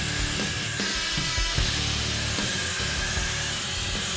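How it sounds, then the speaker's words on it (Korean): Hand sanding works over the corners and edges of a domestic hardwood cutting board in a workshop. The scraping and rasping is continuous, close and loud, with no talk. "모서리를 비롯한 제품 구석구석을 꼼꼼히 연마한다."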